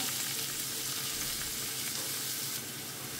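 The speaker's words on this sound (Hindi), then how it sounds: "सो कांदे एक 2-3 मिनटां हें फ्राय करून घेता." Chopped onions fry in coconut oil in a pan for a Goan pomfret thali, giving a soft, steady sizzle and crackle with occasional stirring, fairly quiet, and with no talking.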